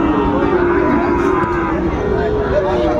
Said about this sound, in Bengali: শাহিওয়াল সেরা মানের গরুটি,